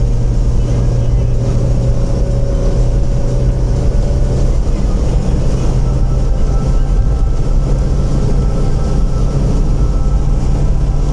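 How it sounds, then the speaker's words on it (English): A car's engine and exhaust drone steadily from inside the cabin while driving a moor road toward Reeth and Grinton Moor, a loud continuous rumble with road noise throughout. "See if it picks up any exhaust."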